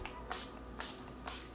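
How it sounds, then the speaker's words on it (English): Three quick hissing bursts of makeup setting spray misted onto a face, close and evenly spaced in a quiet room. "I'm gonna go ahead and spray my face with my setting spray."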